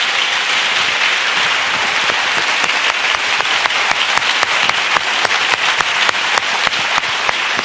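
A church congregation clapping for Jesus Christ, a dense, loud burst of many hands that grows into sharper, more rhythmic claps toward the end, with no voices over it.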